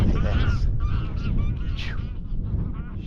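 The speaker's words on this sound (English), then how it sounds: "Sheep and the old ducks going mad." Ducks in the countryside calling in loud, rapid honking bursts, several birds near together, with a low wind rumble underneath.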